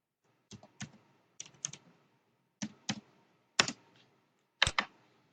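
Close, crisp keystrokes on a computer keyboard come in short irregular bursts of a few taps each, separated by brief pauses, in a quiet room with no talking.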